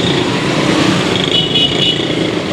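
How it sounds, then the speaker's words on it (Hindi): Steady road traffic at a market in Lalukhet, Karachi, with cars flowing past continuously at moderate distance, a broad even rumble without any single standout vehicle. "गाड़ियाँ आराम से गुजर रही हैं"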